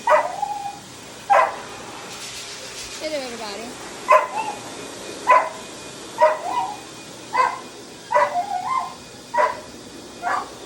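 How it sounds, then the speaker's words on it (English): A dog barks repeatedly in short sharp bursts with whimpering yips between them while being blow-dried, over a steady blowing hiss, and a voice briefly speaks. "that dog does not like to be blow dry."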